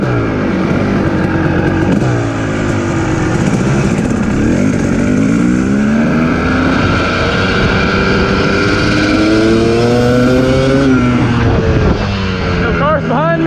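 Kawasaki KX dirt bike, freshly tuned up with new spark plugs and an adjusted clutch, revs steadily while riding through a neighborhood, its engine rising and falling through gear changes, loud and close under someone talking.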